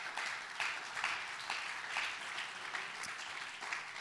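Worshippers in a church clap for the Lord, a fairly quiet, steady patter of applause from a group, with individual claps pulsing through in a loose rhythm.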